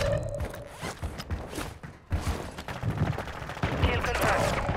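Rapid gunfire and scattered shots crackle in an online shooter match, mixed with clatter and movement noises, while players' voices break in intermittently.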